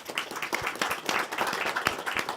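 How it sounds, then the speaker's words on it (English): Crowd clapping at a Christmas parade of lights as a high school float is announced, scattered, moderately close hand claps of uneven rhythm from a modest group, with no talk over them. "You're supposed to clap."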